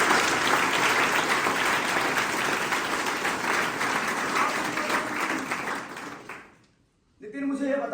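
Loud, dense applause from a large audience roars steadily for about six seconds, then fades out into a brief silence before a voice starts talking.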